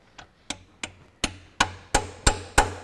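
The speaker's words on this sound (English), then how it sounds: "I have an impact socket here and I just give it a bit of a hit, and that's just to make sure that the socket grips the bolt properly." A hammer taps an impact socket onto a bolt on a Ferguson TEA20 tractor engine, eight sharp metallic knocks in a steady rhythm that grow gradually louder, close up with no talk.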